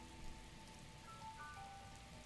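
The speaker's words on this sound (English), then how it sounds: "Rain, rain, go away." Rain falling in The Legend of Zelda: Breath of the Wild, a faint steady patter on surfaces under soft tonal game music, continuous and quiet.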